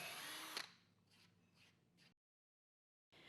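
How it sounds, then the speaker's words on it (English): A power drill bores 1/4 inch holes through a wooden bed side rail with scrap wood clamped behind it, running loud and close for about half a second, then whirring more softly in short bursts before stopping and briefly restarting. "mark and drill 2 1/4 inch holes completely through the side rail"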